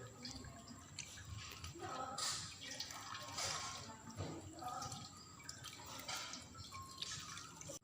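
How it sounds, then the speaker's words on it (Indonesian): Running tap water splashes steadily over hands being rinsed before a prenatal hemoglobin and urine protein check, with scattered drips and splatters close by, moderately loud throughout. "Bilas tangan menggunakan air mengalir."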